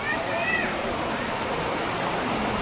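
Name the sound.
rushing water at Jatashankar in the rain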